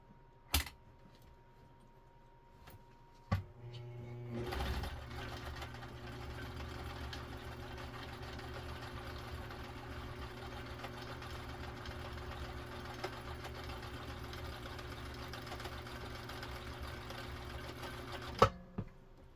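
A Viking Husqvarna 2000 sewing machine stitches a decorative heart pattern on white fabric, a steady low mechanical hum and needle chatter running evenly for about fourteen seconds between a few brief clicks.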